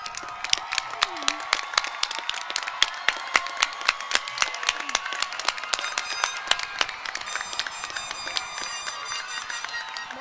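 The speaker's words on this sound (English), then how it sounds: "give them a round of applause for an unforgettable childhood" Audience at a high school graduation commencement ceremony applauding, a dense sustained burst of many hands clapping throughout, steady and fairly close with no voices standing out.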